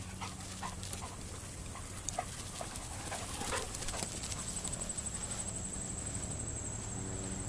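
A Labrador puppy panting close by, quick rhythmic breaths repeating steadily over faint background noise.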